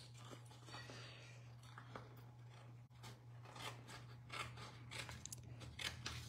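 Repeated crisp snips of scissors cutting paper, a series of short rhythmic cuts close up, with a low steady hum underneath.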